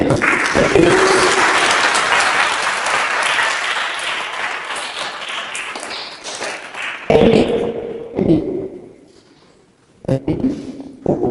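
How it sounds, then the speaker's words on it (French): A congregation claps during a family Sunday Mass, a full burst of applause that fades after several seconds, followed by scattered taps, thumps and voices in a reverberant church. "Allez, on l'applaudit."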